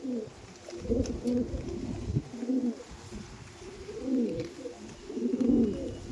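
Andhra pigeons coo in soft, repeated rolling bursts, close by, with a faint background hum and no talking.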